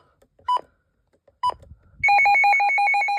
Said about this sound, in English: Hopefully you like that little weather radio sound off